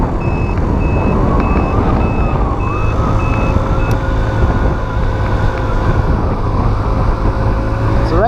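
A Baja SC50 Chinese scooter with a GY6 engine rides along at night near 30 mph, its engine drone loud and steady throughout while a rhythmic beeping pulses over it in the first half.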